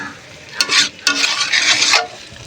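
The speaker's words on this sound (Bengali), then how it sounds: "চলো মাটনটা এবার ধীরে ধীরে আস্তে আস্তে কষাবো।" Mutton being stir-fried in a kadai: bursts of loud scraping and sizzling in two long strokes, with a steady fry hiss between them and no talk.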